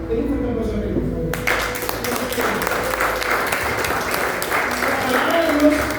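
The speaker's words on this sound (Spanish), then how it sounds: "Denle un fuerte aplauso a Él, por favor." A church congregation breaks into applause, the clapping swelling suddenly after a moment and continuing as a dense, steady patter that fills the space to the end.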